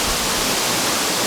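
Nyauli Jharna, a waterfall in northern Gorkha, gives off a loud, dense, steady rushing hiss of falling water, close and unbroken, with no voices.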